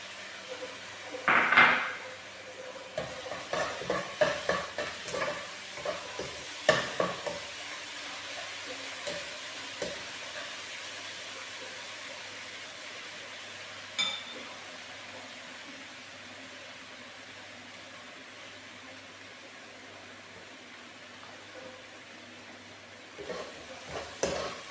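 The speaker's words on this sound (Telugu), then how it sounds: "అల్లము తెల్లగడ్డ వేసేస్తున్నా." Ginger and garlic hit a pan of frying onions with a soft, steady sizzle; early on a utensil stirs and clinks against the pan, then the frying settles into a faint, even hiss.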